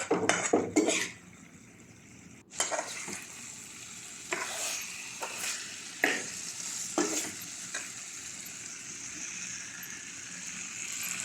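Potatoes and tomatoes fry in a pan with a constant low sizzle, broken by a few loud clanks of a spoon against the pan at the start and scattered stirring scrapes afterward.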